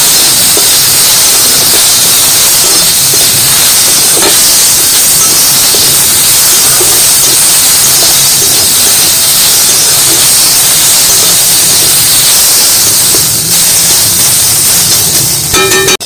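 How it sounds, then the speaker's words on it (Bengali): Potatoes with turmeric and salt fry in a pan, giving a steady, loud hiss and sizzle that runs unbroken from start to finish with faint crackles and no voices. "এবার আলুটা লাল লাল করে ভেজে নেব।"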